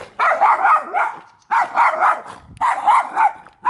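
Several dogs barking in three close, loud bursts of repeated barks separated by short pauses, in a Lithuanian garden-community setting where a man walking past is complaining about kept dogs.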